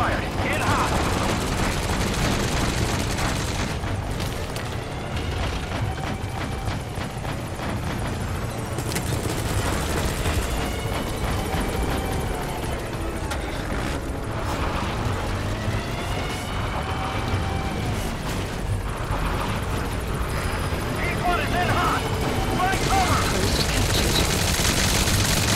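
Helicopter gunship cover fire in Metal Gear Solid V: The Phantom Pain, with steady rotor drone under sustained bursts of machine-gun fire and explosions running throughout, loud and continuous.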